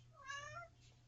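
A cat gives a single clear meow with a rising and falling pitch, fairly close, over a low steady hum in a quiet room.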